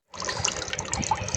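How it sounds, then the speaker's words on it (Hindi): Water trickles and splashes steadily as it is poured a second time into a soaking almond mixture for badam sharbat, a continuous close liquid pour with no talk. "ये देखिए हमने दूसरी दफ़ा भी डाला है इसमें पानी"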